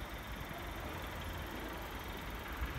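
A police vehicle stopped in the middle of a street sits with its engine idling, giving a steady low rumble with continuous broadband road and street noise throughout and no voices.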